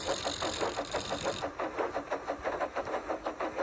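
A toy steam engine puffs along in a steady rhythmic chuff, each puff evenly spaced and fairly close, with a bright hiss layered over the first part before it drops away.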